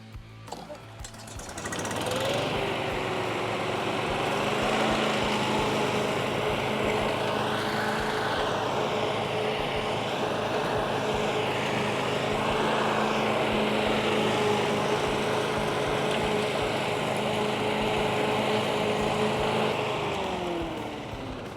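After a lawn renovation, a mower's engine starts with a sharp burst, then drones steadily through mowing passes, its pitch rising and dipping gently under load before fading near the end.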